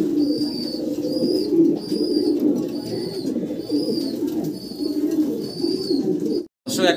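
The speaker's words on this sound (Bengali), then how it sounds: "এক পেয়ার ড্যানিশ কবুতর আমরা দেখতেছি" A pair of white Danish pigeons with red beaks and eyes coo steadily in low rolling phrases close by, while a thin high whistle recurs faintly in the background.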